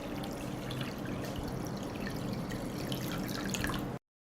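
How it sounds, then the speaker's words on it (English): Water pours steadily into a pot holding glass jars set on a cloth, a continuous close splashing trickle for about four seconds with no talking. "I pour water into the pot,"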